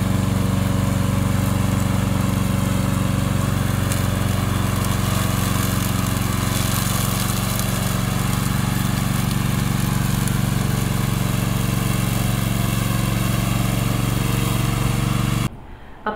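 A remote control lawn mower engine runs at a loud, steady drone with constant tone throughout, then cuts off abruptly at the very end.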